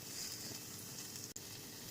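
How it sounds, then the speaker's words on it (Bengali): Small masoor dal fritters frying in hot oil in a kadai, a steady, soft hiss of sizzling bubbles with a brief break near the end. "এইবারে এই মুসুর ডালের বড়াগুলো একদম ছোট্ট ছোট্ট করে ভেজে নেব।"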